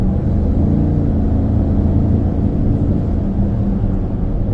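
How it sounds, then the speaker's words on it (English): A 2025 GMC Yukon Denali Ultimate accelerates onto a highway with a loud, steady low engine and road drone that builds evenly from inside the cabin, without speech. "as we get on the highway, I'm going to accelerate so she can kind of feel the acceleration"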